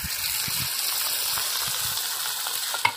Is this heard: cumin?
yes